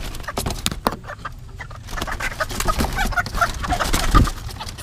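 Hens and chicks cluck and chatter close by in a busy, continuous stream of short calls, with scattered rustling and a few louder squawks.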